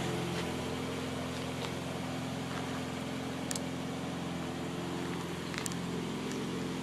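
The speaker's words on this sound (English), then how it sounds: "That's what she sounds like. It's the exhaust pipe down there." A 1982 BMW 325 runs with a steady low exhaust drone from the pipe underneath, faint and continuous with a few small clicks.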